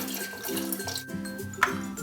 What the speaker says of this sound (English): Step number 1, to fill up your kettle.